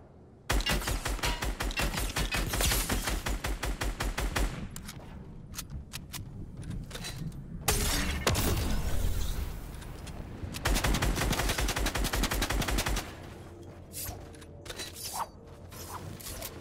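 Rapid bursts of automatic gunfire in Fortnite crackle loudly and almost continuously, broken by brief pauses between volleys, with mechanical clacks in the gaps.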